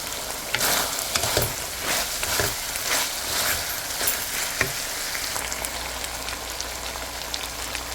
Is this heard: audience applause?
no